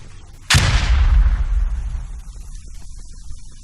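A grenade blast in a close-quarters shooter game set in Al Basrah, one sharp loud explosion that booms and rolls away over a couple of seconds, with scattered gunfire crackling faintly behind it.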